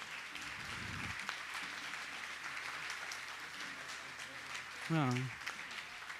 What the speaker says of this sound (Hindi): पूरी समाज आप तालियां बजाकर स्वागत करिए